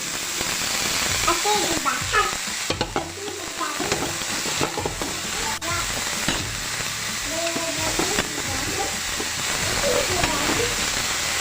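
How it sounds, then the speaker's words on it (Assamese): Manimuni greens and potatoes, seasoned with turmeric, fry in hot oil with a loud, continuous sizzle and crackle, broken by occasional stirring scrapes. A voice talks intermittently over the frying. "এয়া ভাজি আছোঁ মই মানিমুনি আৰু আলু"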